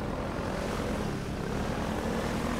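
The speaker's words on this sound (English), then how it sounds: "where's that heli chopper? I nearly blew him up" A combat helicopter in the Half-Life 2 video game flies close by, a loud, steady, dense rotor roar that fills the whole stretch without talk.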